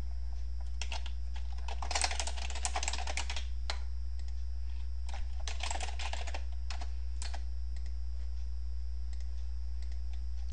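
Computer keyboard typing in quick bursts of close, crisp key clicks with short pauses between them, over a steady low hum.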